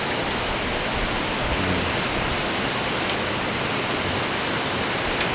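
Heavy rain pours in a dense, unbroken roar of drops hitting surfaces, loud and close with no voices over it.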